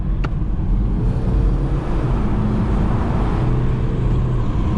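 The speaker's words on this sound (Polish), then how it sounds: "Normalny dźwięk czterocylindrowca" A 2018 BMW 320d GT with a 190 hp four-cylinder diesel cruising fast on a motorway, a steady low engine drone blended with road and wind rumble inside the cabin, continuous and fairly loud.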